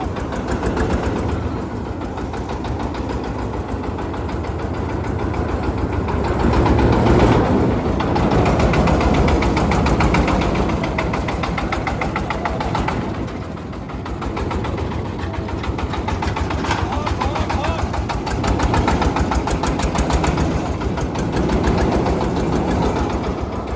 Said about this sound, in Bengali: এটা হচ্ছে সাংসাই ছত্রিশ ইঞ্জিন